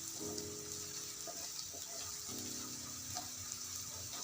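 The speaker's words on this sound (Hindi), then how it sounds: "इस तरह से हमें अच्छी तरह से इसे भून लेना है" Onions frying in a pan on a medium flame for paneer bhurji, a constant close hiss and sizzle with a few soft stirring scrapes on top.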